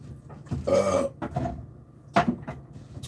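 A loud burp erupts close by in a kitchen while cornbread is being made, followed a moment later by a second shorter belch, with a few clattering knocks of items being put away in between.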